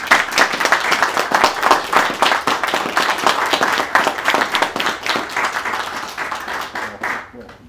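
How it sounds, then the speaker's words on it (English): An audience at a Knights Templar investiture ceremony breaks into a warm round of applause for newly invested knights, a dense burst of many hands clapping that fades out toward the end. "please give our newest knights a warm round of applause"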